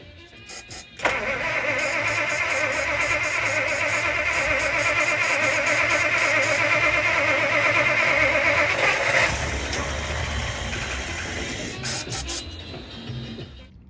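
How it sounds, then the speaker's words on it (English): A 1956 Plymouth Plaza with a freshly rebuilt engine is push-button started. The starter cranks, the engine catches, and it settles into a loud, steady idle that runs for several seconds. Rapid clicking or chattering bursts sit on top of the idle. "And the ignition wire, push button start, and let's see what's gonna happen."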